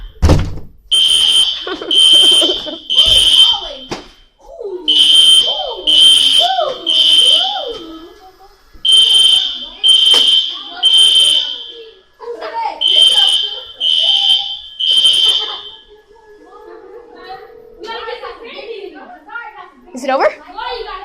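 A hotel fire alarm sounds in repeated loud bursts of a shrill, pulsing tone separated by brief pauses, while people talk nearby throughout.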